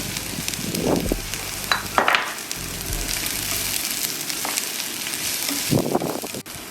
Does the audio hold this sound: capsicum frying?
yes